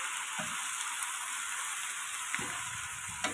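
Iceberg lettuce stir-fries in a hot pan with oyster sauce, giving a continuous bright sizzle broken by a few short scrapes and knocks from stirring.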